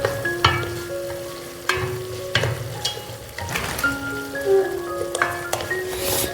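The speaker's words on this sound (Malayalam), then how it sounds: "ഇതുപോലെ തന്നെ ബാക്കിയുള്ളതുകൂടി ഒന്ന് വറുത്തെടുക്കാം." Fish pieces fry in hot oil for a fish biryani, a close, steady sizzle broken by several sharp clinks and scrapes of a utensil turning and lifting the fish from the pan.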